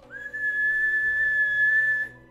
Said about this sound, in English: Sharp whistle to pierce the night